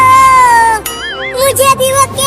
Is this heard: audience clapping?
no